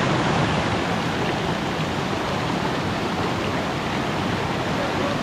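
Nilam Sarai waterfall in Bijapur, Chhattisgarh, roars with a steady, dense rush of falling water, loud and close, continuous without a break.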